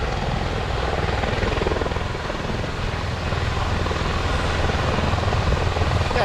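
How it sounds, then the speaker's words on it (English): A helicopter hovering at an air and sea show, its rotor wash producing a loud, continuous, close thumping roar with steady engine drone and no letup. "It produced a tremendous amount of rotor wash."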